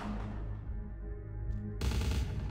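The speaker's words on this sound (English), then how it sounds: "What are they shooting at?" Gunfire in the video game Vampire: The Masquerade - Bloodlines, a rumbling roar of shots that swells into a louder burst near the end, heard alone without talk.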